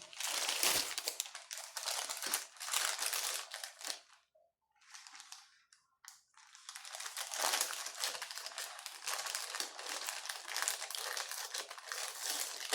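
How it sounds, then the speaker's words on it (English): Packaging crinkles and rustles loudly up close, a long continuous crackling broken by a brief quiet gap around the middle, then resuming steadily, with no talking. "sorry about the crinkling and the rustling again"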